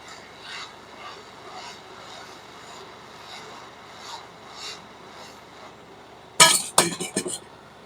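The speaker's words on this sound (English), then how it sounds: "I've got a lot of these to unlid, at least the ones I can." Metal lids being pried off large ceramic CPUs, a sharp burst of metallic clinks and snaps near the end after quiet faint tapping and handling.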